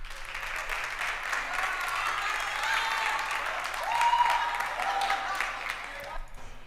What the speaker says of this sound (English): we have this applause sample up at the top here, just a bunch of people clapping, also time stretched.